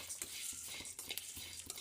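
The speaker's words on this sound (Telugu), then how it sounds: "కరివేపాకు, ఎండిపోయిన కరివేపాకు రెమ్మలు వేయించుకొని దోరగా వేయించుకోవాలి." Dried curry leaf sprigs roasted in a pan for dhaniya powder, stirred with a spatula in quick repeated scraping strokes and light clinks over a faint sizzle, close and quiet.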